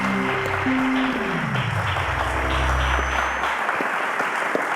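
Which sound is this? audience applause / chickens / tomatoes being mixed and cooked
audience applause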